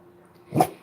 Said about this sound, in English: The dog's about to bark.